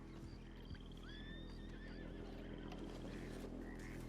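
A Mustang horse in Red Dead Redemption 2 gives a clear whinny over a low steady hum, with soft hoof clip-clops around it, fairly quiet overall.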